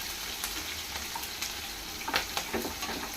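Green chili, ginger and garlic pieces frying and being stirred in a pan for brinjal curd chutney, a steady soft sizzle with a few scraping stirs, close and moderately quiet, no voices.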